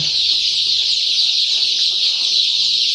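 Black Andijan chicks, vaccinated and kept together with roosters, fill the air with a dense, continuous chorus of high-pitched peeping at steady loudness throughout.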